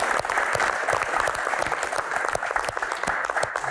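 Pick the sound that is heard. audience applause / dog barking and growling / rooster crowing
audience applause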